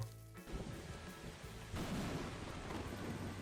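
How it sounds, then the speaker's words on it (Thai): A lightning strike with rumbling thunder in the video game Grow a Garden opens with a sharp crack, then a sustained, broad, fairly faint roar that swells partway through. "เมื่อกี้มีฟ้าผ่านะ ลงวอเตอร์เมลอนผม"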